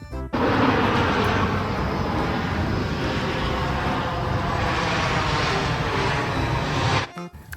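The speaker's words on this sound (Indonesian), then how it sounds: "Wow, pesawat terbang." A toy airplane's engine sound plays as a continuous, fairly loud propeller-like drone for about seven seconds, then cuts off abruptly, with no talking.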